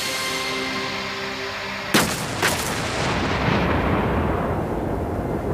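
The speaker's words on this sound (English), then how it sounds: "Elevate the gun back to firing position and fire." An artillery gun fires once with a single loud, close boom, a quick echoing second crack and a long rumbling decay over steady background noise.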